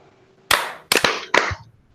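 Three crisp, loud bursts of group clapping from a seminar audience, spaced in an even rhythm after a quiet lead-in, with no voices.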